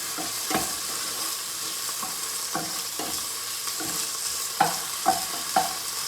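Chicken sizzles and crackles in a hot pan for a Pad Thai, a steady frying hiss broken by several sharp stirring scrapes, close and fairly loud, with no talking.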